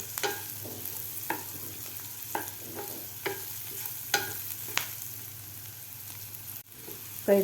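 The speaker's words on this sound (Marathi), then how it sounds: "कापून घेतलेली कैरी सुद्धा आपल्याला एक ते दीड मिनिट व्यवस्थित फ्राय करून घ्यायचे आहे कांद्यामध्ये" Chopped raw mango frying with onions in a pan, a continuous soft sizzle broken by regular scraping strokes of a spatula about once a second, close and moderately loud.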